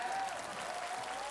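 Audience applause at a crowded Islamic religious gathering led by Gus Iqdam, a brief steady wash of clapping from many hands at a moderate level, with no voices standing out.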